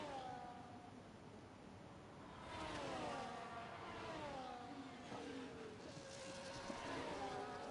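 Ferrari Formula 1 car engine in the F1 24 racing game at the Azerbaijan Grand Prix, a high revving whine with rising and falling gear-shift sweeps, steady and fairly loud throughout with tire noise underneath.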